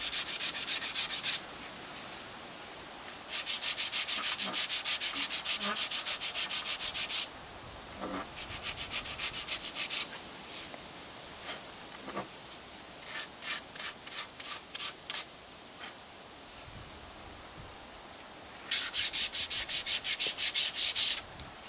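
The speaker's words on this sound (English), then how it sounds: "A bit more sanding" Close-up sanding of wooden boat spars: long stretches of steady, scratchy rubbing broken by pauses and shorter back-and-forth strokes.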